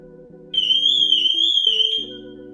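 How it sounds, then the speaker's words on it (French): Piercing high-pitched wail from a powerful 105-decibel Somfy home alarm siren, about one and a half seconds long and very loud, rising over a softer, lower electronic tone pattern. "Attention à l'alarme puissante, 105 décibels."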